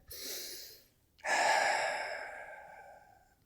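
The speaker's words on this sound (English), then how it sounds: "Take a deep breath." One person draws a deep, audible breath in close and calm, then lets out a long, breathy exhale after a short pause, heard alone without any speech.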